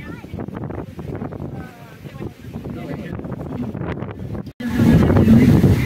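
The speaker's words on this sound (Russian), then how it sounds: "Сегодня такой сильный ветер," A person talks while strong wind buffets the microphone at an outdoor harvest fair in Rostov, then a heavy rush of wind roars loudly over the last second.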